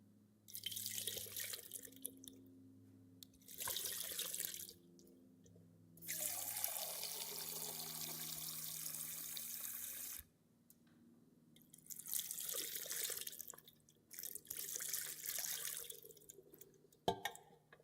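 Water poured over exposed hands during ritual handwashing, splashing in several separate bursts of a few seconds each with quiet gaps between, close and fairly loud, with a low steady hum underneath.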